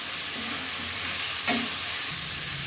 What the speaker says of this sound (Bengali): মাশরুম আর আলুটা দিয়ে দেবো। দিয়ে কষিয়ে নেব।